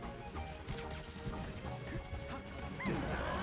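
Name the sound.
forward smash hit in Super Smash Bros. Melee video game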